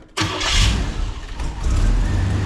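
A car with a newly finished exhaust cranks briefly and catches, then settles into a loud, close, steady idle with a slight surge partway through.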